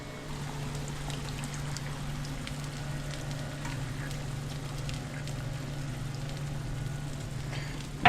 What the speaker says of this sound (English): It's cooking down some of that wine. I'm going to add the capers.